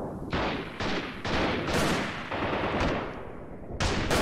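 Rapid bursts of weapon gunfire in the guerrilla-warfare game Freeman Guerrilla Warfare, loud and close, firing in several short volleys with brief gaps between them and no talking.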